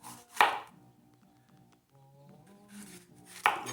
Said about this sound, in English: I'll show you how to cut the bell up real easy